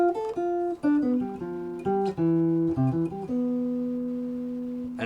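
Clean guitar arpeggio lick played over a 2-5-1 progression, a flowing line of single notes and ringing chord tones with steady phrasing, the last notes held and sustained, with no talking.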